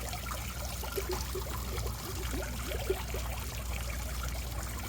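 Clear-water fountain in a public garden trickling steadily, a soft continuous splash and babble at moderate distance, even and unbroken without talk.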